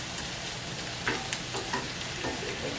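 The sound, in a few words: chopped onions sauteing in a pan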